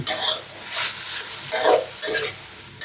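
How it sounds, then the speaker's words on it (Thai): Pork belly and vegetables stir-fried in a hot pan, with steady loud sizzling and repeated scraping strokes of a spatula close by, no voices. "เราก็จะผัดพอผักสลดนะครับ"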